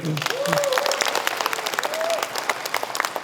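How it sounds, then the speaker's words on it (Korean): A seated forum audience backing Gyeongju's bid to host the 2025 APEC summit breaks into a steady round of applause, dense clapping from many hands with a few voices calling out over it. "여러분들 공감하시면은 박수 한번 쳐주세요"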